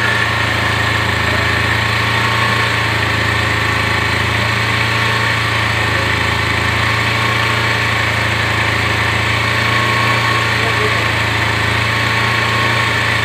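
Motorcycle engine running steadily near idle with a constant droning hum and faint mechanical vibration, no obvious rise in revs, loud and close throughout with no talking.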